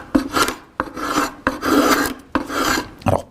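A dull drawknife slipping and skating over wood, barely biting: four rasping, scraping strokes in a steady back-and-forth rhythm, close and fairly loud, with no one speaking.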